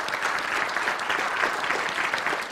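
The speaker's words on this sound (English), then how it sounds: "that's worth an applause for you" Keynote audience breaks into applause, a dense, even wash of many hands clapping at moderate distance, sustained without talk.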